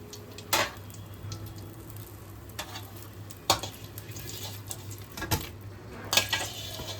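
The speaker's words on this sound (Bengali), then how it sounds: "এদিকে শেষের বেগুনগুলো আমার ভাজা হয়ে গেল" Eggplant pieces fry in oil under a low, steady sizzle, broken by several distinct clanks and scrapes as a utensil stirs them against the pan.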